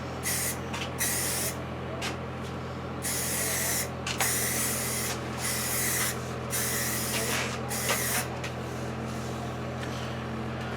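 Primer sprays onto a Razor go-kart panel in repeated close, loud hissing bursts, each pass separated by short pauses, with a faint steady hum underneath.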